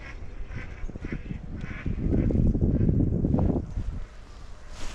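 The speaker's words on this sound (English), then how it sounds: "Some mallards down there." Mallard ducks quack from down on a river in a county park, a raspy run of calls heard from a distance, growing busier midway, outdoors with some wind.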